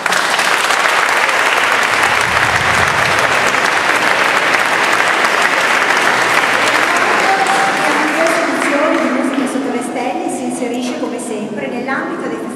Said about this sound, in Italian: Comunque merita un grande applauso.